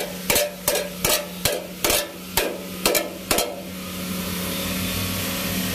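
Metal cable trunking being hammered to bend it, with seven sharp, evenly spaced metallic blows ringing close and loud over a steady background hum, then the hum continuing alone.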